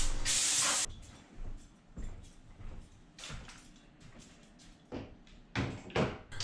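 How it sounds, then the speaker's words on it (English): A sharp blast of compressed air hisses loudly at the start as an air blower cleans stained, sanded cabinets, followed by shorter bursts of blowing and knocks of cabinet doors nearby. "Right now I'm just blowing the cabinets out and getting ready for spraying."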